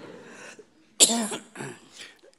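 A sharp, loud cough bursts out after a quiet stretch, followed by a couple of softer coughing or throat-clearing sounds, close by.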